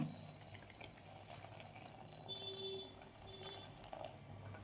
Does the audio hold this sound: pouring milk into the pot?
yes